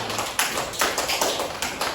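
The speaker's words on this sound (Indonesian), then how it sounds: "tepuk tangan untuk kelompok 3" A classroom group applauds group 3, a close burst of quick, uneven claps from a small number of students with no talking.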